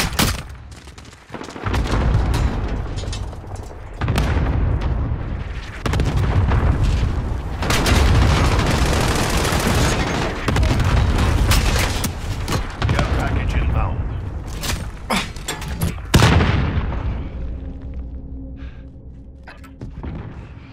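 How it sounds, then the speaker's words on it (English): Cluster strike explosions in a video game: dense, overlapping booms and rapid blasts roll on for about twenty seconds, loud and close, with voices mixed in. "Allied cluster strike inbound."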